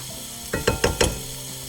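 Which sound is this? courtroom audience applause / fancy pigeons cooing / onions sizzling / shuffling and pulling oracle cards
onions sizzling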